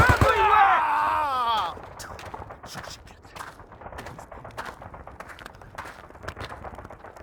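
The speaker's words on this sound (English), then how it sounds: "Grenades, get your asses down!" In the Vietnam war game Men of Valor, a loud blast with a tonal ringing tail opens, then scattered gunshots crack at varying distances through a rumbling battlefield backdrop.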